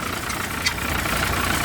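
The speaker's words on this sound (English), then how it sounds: "It's got a nice international engine in it." International engine idling in a 1985 Thomas full-length school bus with automatic transmission, a steady low rumble with a faint knocking texture and one brief clack, running alone at close range.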